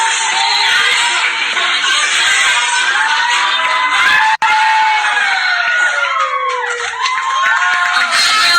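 A crowd at an event with children dancing, cheering and shrieking in a loud, continuous wash of excited voices, with high whoops and shouts rising over the din and one brief break midway.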